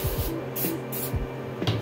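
Glass cleaner sprayed from a trigger spray bottle in a few quick, sharp hissing bursts close to the microphone, beside a resin printer, with no voices.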